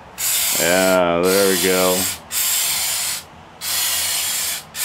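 An aerosol can of window sealant sprays in several long, loud, close hissing bursts with short pauses between them, and someone speaks briefly over the first burst.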